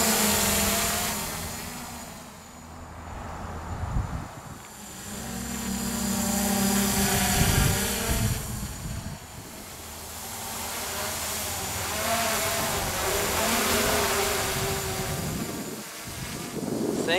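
An MJX Bugs 3 quadcopter drone flies outdoors in strong wind, its motors whining and changing pitch as it maneuvers, heavily mixed with loud buffeting wind noise across the microphone throughout.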